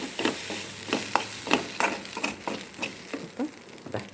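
Egg thoran with curry leaves being stirred in a pan, a rhythmic series of scraping and tapping strokes over a low sizzle, close and fairly even in pace.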